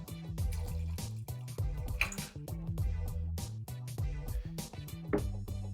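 A prepared cocktail is poured from a vessel into a glass, a steady close trickle with dripping, gurgling splashes running for several seconds, no voices.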